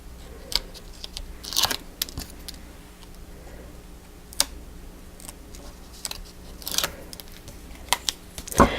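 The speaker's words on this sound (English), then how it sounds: "Take my bloom tool and run over one edge of all 3 of them and peel it off." A bloom tool rubs along the edges of paper card pieces, then the paper is peeled off, giving scattered crisp scratches, soft crackles and a few sharp ticks, close and fairly quiet, without talk.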